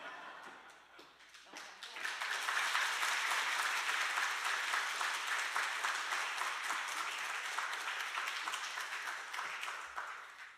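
A church congregation at a revival prayer meeting claps, a dense sustained applause that swells quickly and stays loud for several seconds before tapering, heard from within the crowd.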